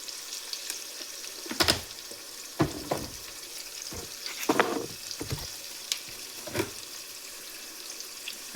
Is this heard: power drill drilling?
no